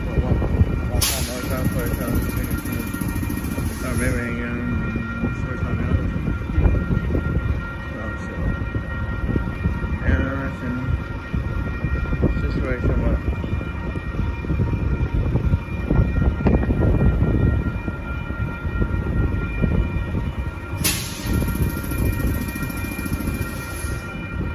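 A northbound Union Pacific mixed freight train rolls past in a loud, steady rumble of wagons and wheels, with horn blasts sounding near the start and again near the end, and voices now and then under the noise.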